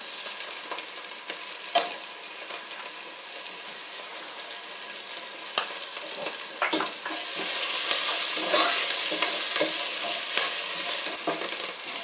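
Onions and garlic frying lightly in a pan for chicken bhuna khichuri, giving a steady close sizzle with stirring scrapes and clinks. The hiss grows louder and fuller in the second half.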